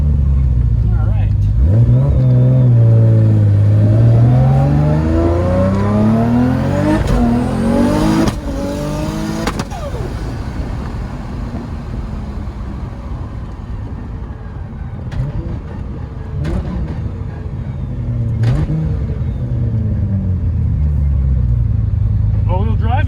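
Nissan R32 GTR engine revving up through the gears at full throttle, rising and falling harmonic sweeps of a fast-spooling engine heard close inside the car, with people talking over it.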